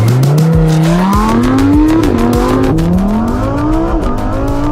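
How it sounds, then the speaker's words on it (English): A Lamborghini Huracan launches and accelerates hard, its engine roaring loud and close, rising in pitch through each gear before dropping briefly on the shifts, with a hint of tire squeal. "It's time to see what the Lamborghini Huracan can do."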